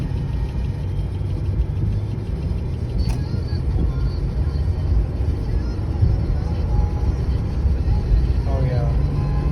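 A supercharged car drives down the road, its engine a steady, loud mid-pitched drone with continuous road rumble throughout and no break in the noise.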